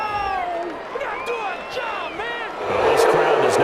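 A stadium crowd in Madden NFL 21 reacts to a penalty call with a steady roar that swells louder toward the end, while rising and falling whistle-like tones cut across it.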